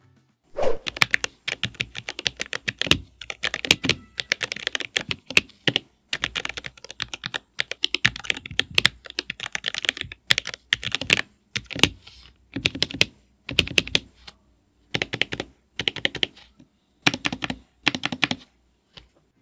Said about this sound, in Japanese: 打鍵音も少し高めの音で、タイピング音を楽しむ方はおすすめだと思います。